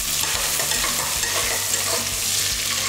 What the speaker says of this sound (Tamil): மிளகு ஜீரகம் இதையும் இதிலே போட்டுருவோம். எல்லாம் ஒன்றா சேர்ந்து நல்லா எண்ணெயிலேயே பொரியணும்.